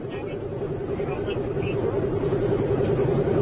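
A car speeding along a road at high speed, its engine droning steadily with a pulsing low hum that builds slightly, while someone talks over it.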